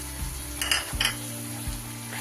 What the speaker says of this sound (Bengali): সব মশলাকে এবার খুব ভালো করে আমি কষিয়ে নেব